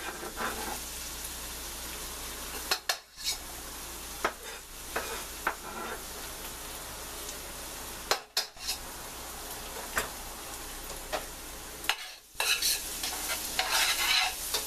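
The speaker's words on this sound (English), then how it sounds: "Now that the onions are starting to get translucent, I'm going to add the garlic." Onions and garlic sizzle continuously in hot oil in a pan, with repeated scraping and clinking of a utensil stirring against the metal and brief pauses between stirs.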